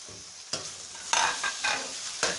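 Chicken frying with lightly browned onions in a pan, a steady sizzle broken by several sharp stirring scrapes at irregular intervals, close and clear with no talking.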